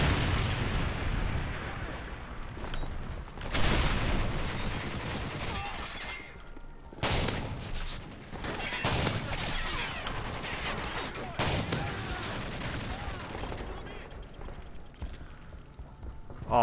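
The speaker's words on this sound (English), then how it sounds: "Predator missile inbound." A Predator missile strike in Call of Duty: MW3's Infected mode lands as a string of loud, broadband blasts and crashes, several heavy bursts spaced a few seconds apart over continuous gameplay noise.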